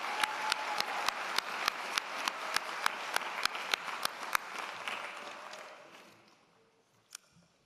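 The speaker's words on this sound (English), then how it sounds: "Another round of applause, please." Sustained applause from a university convocation audience, with steady sharp claps standing out, gradually fading to near silence before one last clap.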